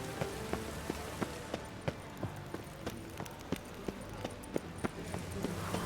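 Rain falling on a city street in a video game, a steady soft patter with scattered sharper drips and clicks, fairly quiet and continuous, with no talking.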